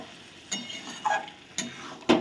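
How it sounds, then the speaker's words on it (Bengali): Mutton being stir-fried in a pan for a Bengali mutton kosha, with four spaced scraping, stirring strokes over a quiet background, each a short soft burst of sizzle and scrape. "এবার খাসির মাংসটা আমি খুব ভালো করে কষিয়ে নেব।"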